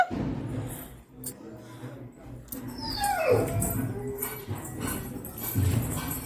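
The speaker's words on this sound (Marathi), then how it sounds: "कुत्रा भुकते" A dog yelps and whimpers at close range amid household background noise, with a few short, high cries rising over ongoing people's voices.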